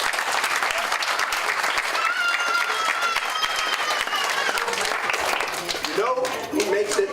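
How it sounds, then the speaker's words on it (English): Steady applause from a crowd at a summer reading program ceremony fills the whole clip, with a few voices rising near the end. "Let's have a round of applause for your teachers."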